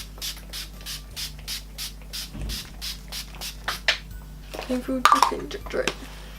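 A quick series of about a dozen evenly spaced spritzes from a makeup setting spray bottle, followed by a few soft rustles and a brief voice.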